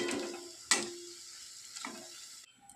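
Coriander leaf fritters (dhonepatar bora) frying in hot oil, a soft steady sizzle with a couple of sharper crackling bursts as batter hits the pan, fairly close and with no talking.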